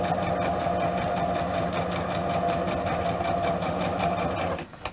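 Sewing machine stitching through a journal cover, a steady fast mechanical whirr with rapid needle ticks running close and loud for several seconds before stopping abruptly.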